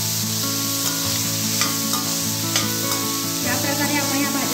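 Mixed vegetables (cauliflower, peas, beans and carrots) frying with cumin in hot oil, a continuous close sizzle with stirring scrapes and clinks from a utensil against the pan.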